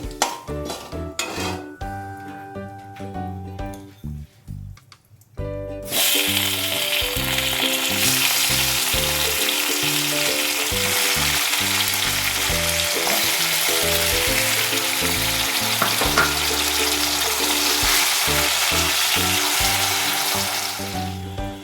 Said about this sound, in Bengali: খুব ভালো করে একটু নাড়িয়ে চাড়িয়ে আমি টমেটোটা দিয়ে দেবো